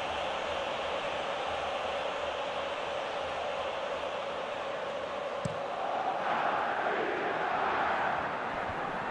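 A football stadium crowd in PES 2021 roars in a broad, continuous wash of cheering that lifts slightly toward the end, with faint commentary underneath.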